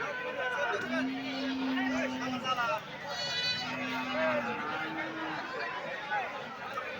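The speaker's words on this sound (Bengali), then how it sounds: "দেখেন অনেক সুন্দর সুন্দর খাসি আসছে সোনাপুর হাটে" Goats bleat in a few drawn-out calls at a busy rural livestock market before Eid al-Adha, heard over constant crowd chatter and people talking nearby.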